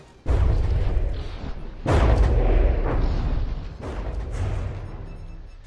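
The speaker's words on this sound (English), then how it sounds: "That shell was very close." Heavy artillery shells firing and impacting in the naval combat game From the Depths, with loud booming blasts followed by long rumbling decay, repeated several times close by.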